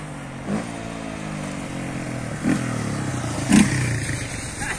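Honda Fan 125 motorcycles from 2008 and 2009 in a street drag race pass by, with steady engine drone and three louder bursts of revving and clatter spaced through the run.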